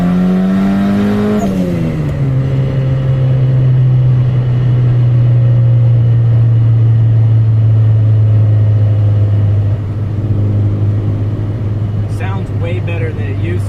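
A turbocharged Honda Accord with an F23 engine idles at a traffic light with a deep, steady rumbling drone that settles after a brief dip in revs, heard from inside the car while people talk over it.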